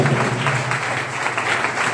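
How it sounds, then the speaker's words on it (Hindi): Applause at a business plan seminar breaks out for a presenter, steady, fairly loud clapping from a crowd filling the room without pause. "एक बार सुधीर सर के लिए जोरदार ताली होनी चाहिए।"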